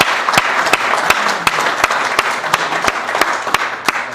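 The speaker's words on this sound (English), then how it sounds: "Just a round of applause for them, I think." Steady audience applause at the 64th annual Men of Essex awards ceremony, a dense wash of clapping that continues for the whole stretch with a few sharper claps standing out near the front, and no talking over it.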